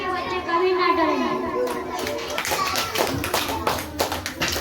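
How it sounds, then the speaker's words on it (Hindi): Loud applause from a children's audience at a school Independence Day celebration, steady clapping throughout with children's voices and chatter mixed in. "इस सब के लिए जोरदार तालियां"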